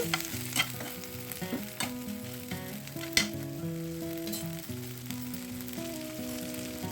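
Tomatoes softened in a pan with coriander and stems stirred through, steady close sizzling with repeated stirring scrapes, while a tonal melody plays underneath throughout.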